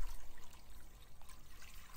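Water pours into an Instant Pot over bones, celery, carrots, spices and vinegar for bone broth, a steady close trickle and splash running on without a break.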